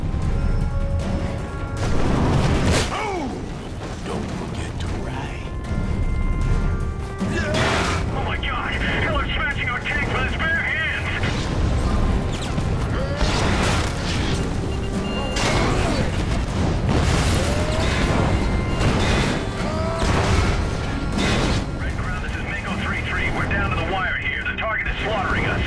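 Soldiers open fire in the video game Prototype 2, with sharp gunshot cracks, booms and crashes layered over a continuous roar of action, while voices talk through much of the scene.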